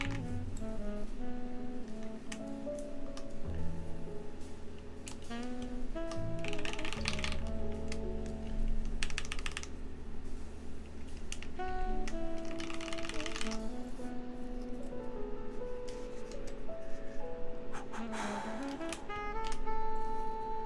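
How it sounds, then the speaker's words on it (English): Keycaps click and snap one at a time onto a Keycult No.2 mechanical keyboard in an irregular, fairly quiet series of sharp plastic taps, with background music playing underneath. "Now we can put the rest of the keycaps on."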